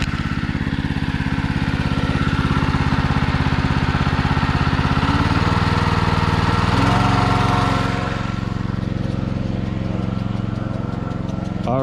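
A small engine driving a pond water pump chugs loudly and close from idle, then its pitch and pace rise as the throttle is turned up, steady mechanical thrumming throughout.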